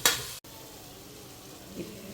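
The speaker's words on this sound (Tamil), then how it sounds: "இப்போ சிக்கனை போட்டேன் நல்லா வதக்கிட்டு இருக்கேன்" Chicken sautéing in a pan for chicken biryani in a home kitchen, a soft steady sizzle after a brief louder burst at the start, with a faint stir or clink near the end.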